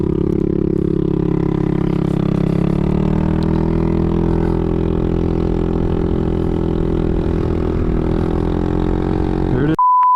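A Honda Forza 300 (NSS300) scooter carrying a 220 lb rider gives a loud, steady engine drone with a slight upward shift in pitch as it accelerates, cut off by a short beep at the end.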